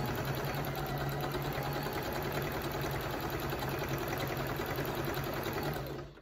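A sewing machine chain-piecing fabric quilt blocks at a quarter-inch seam, running steadily and continuously at a fairly loud, even level, with a low mechanical hum and a rapid stitching rattle, then stopping abruptly at the end.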